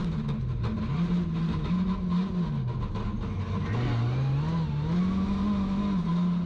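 An onboard Ford Escort rally car in Class C at the Brands Hatch circuit rally drones loudly and continuously, its engine note rising and falling as it accelerates and lifts through the corners.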